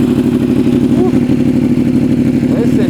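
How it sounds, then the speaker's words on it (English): A Yamaha R1M crossplane 1000cc superbike with titanium exhaust, warmed up, revving hard and close, a loud continuous growl that rises and falls with the throttle, steady throughout. "The bike is warm, so we're gonna give it some good revs."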